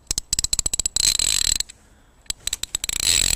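A Neilsen 3/8-inch drive ratchet clicks in rapid bursts of sharp metallic ticks as it is turned, close and loud, with a short quiet pause between runs of clicks.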